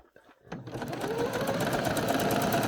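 Gathered skirt fabric basted with yarn runs under a sewing machine, which starts after a few soft clicks and settles into a steady, close mechanical whirr with no talking.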